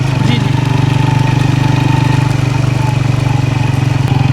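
A motorcycle rides along the Sea View beach road in Karachi, its engine a loud, steady, close drone with a fast, even throb throughout.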